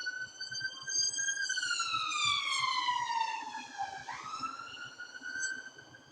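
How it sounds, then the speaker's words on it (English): Police siren passing outside, a loud wailing tone that sweeps slowly downward and then swings back up, steady throughout and heard alone with no talk. "Sorry again for the sirens."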